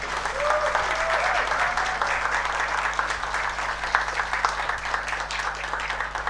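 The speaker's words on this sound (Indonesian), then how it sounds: "Kita semua berdiri sama memberikan tepuk tangan" A standing church congregation applauds a newly ordained pastor at a Kalimantan Barat Christian church service, giving dense, sustained clapping that fills the room, with a faint voice briefly audible beneath it.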